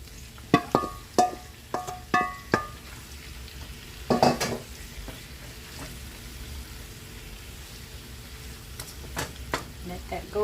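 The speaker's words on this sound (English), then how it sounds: "So I'm going to add the meat to the onion." Meat going into a pan of frying onions: a run of sharp clanks and scrapes from stirring over a low sizzle, then a louder burst of activity before quieter sizzling with a few more knocks near the end.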